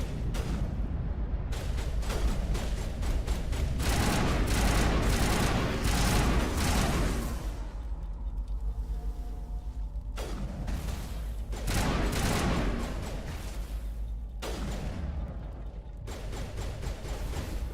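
Sustained assault rifle fire in a sci-fi shooter game, loud and close, rolling in long dense volleys with heavy booms and short lulls between bursts.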